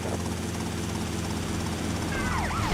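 A police helicopter from the video game GTA Vice City drones with a steady, loud rotor thrum that fills the whole stretch, and a faint siren wail rises near the end.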